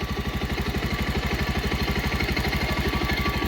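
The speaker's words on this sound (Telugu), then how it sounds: "చూడండి ఏమన్నా ఇంజిన్లో సౌండ్ వస్తుందేమో ఒకసారి వినండి" A 2023-model motorcycle engine idling close by, a steady, rapid low thumping pulse that keeps an even rhythm throughout.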